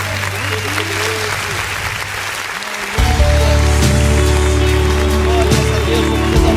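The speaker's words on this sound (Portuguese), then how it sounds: "Vamos aplaudir o nome do Senhor." A church congregation claps during a worship service, a dense, steady wash of hands under a voice, joined midway by loud sustained music with a strong bass line.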